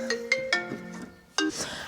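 A phone plays a melodic ringtone of a few bright, chiming notes in quick succession, clear and fairly close, with no talking.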